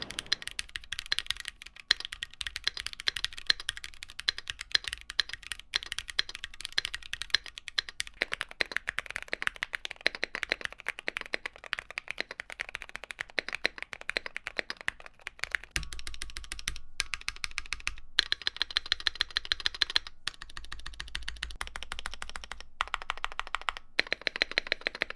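Steady, fast typing on a modded Build-A-Bear Q1 mechanical keyboard, close and quiet, with crisp rapid keystrokes running continuously and brief pauses between bursts near the end.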